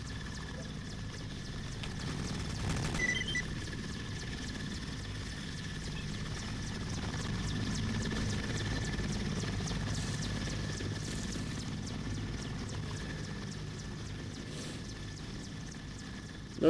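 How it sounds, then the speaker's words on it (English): A helicopter in the video game S.T.A.L.K.E.R.: Lost Alpha drones at a distance, a low, steady rotor rumble under faint game ambience that holds for the whole stretch with slight swells. "There's a helicopter over there."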